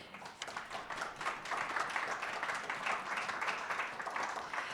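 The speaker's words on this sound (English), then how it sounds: "Let's give a round of applause to a panel" Audience applause for a panel at a talk on working, learning and thriving in a new country, a faint, dense wash of clapping held fairly steady for several seconds.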